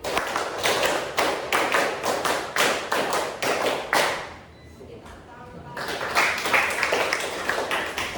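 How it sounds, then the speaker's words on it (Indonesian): A classroom of students claps in counted rapid bursts, many quick claps, then a short lull before another run of clapping resumes. "tepuk 5 kali, tepuk 5 3 kali."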